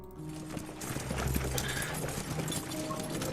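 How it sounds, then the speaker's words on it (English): Slow hoof-like footsteps clopping across a cobbled street in foggy night, steady and close over a low rumbling ambience. "comes the sound of slow footsteps ringing across the cobbled streets"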